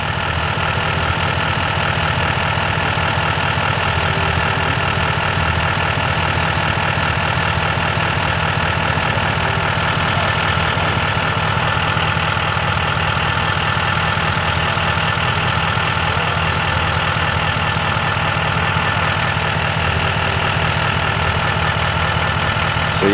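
A vehicle engine idles steadily and loudly up close during an A/C recharge, with a constant drone throughout and no clear break where the compressor clutch engages.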